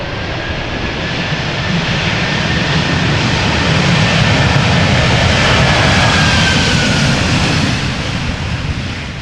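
A jet airliner roars loudly and continuously for several seconds while landing at Amsterdam Schiphol Airport, the rushing engine noise swelling in the middle as thrust reversers kick in.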